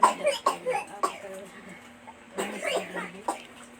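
Several short coughs in quick succession, then a pause and a couple more, close by, with a faint background hum.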